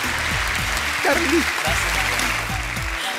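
Studio audience applause on a Spanish-language TV show, a steady hiss of clapping under loud music and a brief spoken word from a host.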